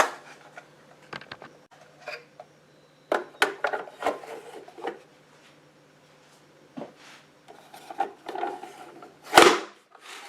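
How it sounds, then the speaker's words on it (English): Scattered bursts of scraping and rasping as a blade is drawn across a sharpener, close by, with pauses between strokes over a faint hum. "I got to sharpen those blades"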